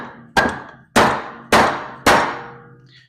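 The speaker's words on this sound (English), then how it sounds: "PTFE hammer." A PTFE hammer strikes a turbocharger part four times at an even pace, each blow a sharp metallic clang that rings out and decays before the next, loud and close with no talking.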